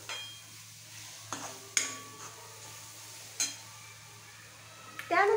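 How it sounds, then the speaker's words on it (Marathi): A spoon stirs the spiced aloo paratha filling in a bowl, giving a few soft scrapes and sharp clinks against the side at irregular intervals over a quiet background. "हे सगळं मिश्रण आपल्याला व्यवस्थित एकात मिसळून घ्यायचं आहे।"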